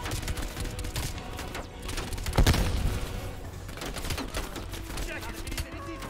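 Rapid gunfire during headshots in Call of Duty: Black Ops Cold War, a dense crackling run of shots with one heavier thump partway through, set against ongoing game sound and faint talk.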